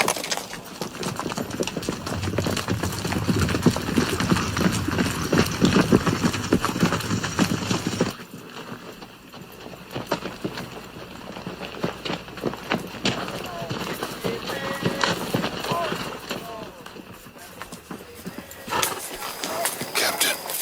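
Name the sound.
horses galloping, ridden by vaqueros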